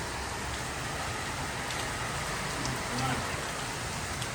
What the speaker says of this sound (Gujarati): વરસાદ આવી ગયો છે ફાઇનલી